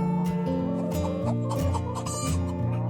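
Chickens on a poultry farm cluck nearby in a busy chorus, with repeated short clucks and squawks layered over one another throughout.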